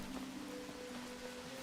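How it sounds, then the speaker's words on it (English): Rain falls in the medieval survival game Medieval Dynasty, a steady hiss that stays quietly in the background, with faint tones running underneath. "Bloody rain."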